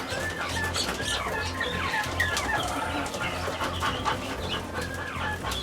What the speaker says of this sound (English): I'm going to put the guineas here, the baby guineas. I'm going to put them in with the chickens.